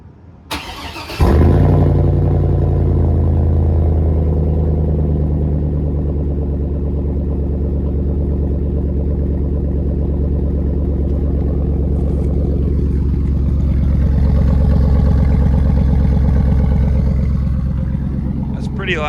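A Chevy Avalanche tow rig fitted with a new custom exhaust starts with a sharp crank, then settles into a loud, deep, steady idle rumble that swells slightly near the end, with people talking over it.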